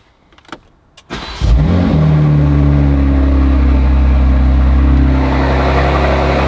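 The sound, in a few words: BMW G87 M2 turbo engine first start, Eventuri intakes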